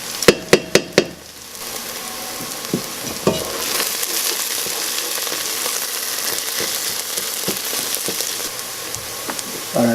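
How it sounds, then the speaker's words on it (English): Onions frying and browning in a pot for French onion soup, with a steady sizzle running throughout after a quick run of sharp metallic clanks at the start and a few scattered stir knocks. "you really want to get this browned up nice and reduce those onions"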